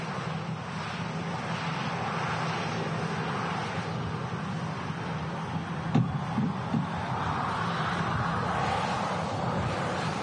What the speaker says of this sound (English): Big gust of wind hitting us there.